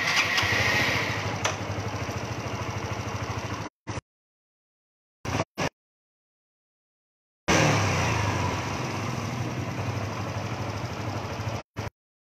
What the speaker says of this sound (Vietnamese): Nổ máy thêm lần nữa.